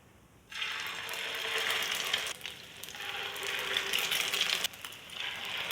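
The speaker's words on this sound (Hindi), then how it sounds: "तो चले कबाब फ्राई करते हैं।" Egg-coated kebabs hit hot oil in a pan, and a bright sizzle starts suddenly and keeps up steadily, dipping briefly twice as the frying continues.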